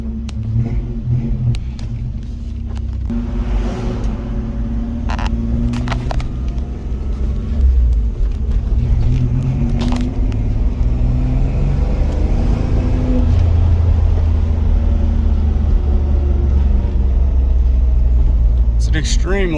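A 1994 Toyota 4Runner 5-speed 4x4 engine with a Flowmaster 40 exhaust rumbles steadily while driving, a low continuous drone with occasional rises as it accelerates, heard from inside the cab.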